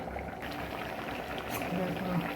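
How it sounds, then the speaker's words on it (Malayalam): Fish curry of nangu fish with chili powder, turmeric, salt and a little water boils in a pot, giving a dense, continuous bubbling and simmering that stays steady and close throughout. "മുളക് പൊടി, മഞ്ഞൾപ്പൊടി, ഉപ്പ്, കുറച്ച് വെള്ളം ഇട്ട് നന്നായി തിളപ്പിക്കുക"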